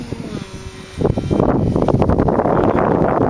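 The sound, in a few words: wind gust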